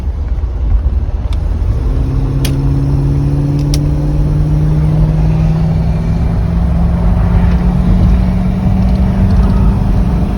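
A Mark VI car's engine pulls hard at full throttle, a steady loud drone whose pitch climbs slowly through the whole stretch, with road and wind roar underneath and no talk.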